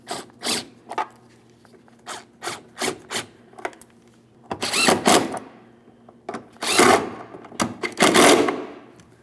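Tail light mounting bolts being tightened on a 2007-2014 Ford Edge, a series of short rubbing, ratcheting strokes in irregular bursts, close and alone.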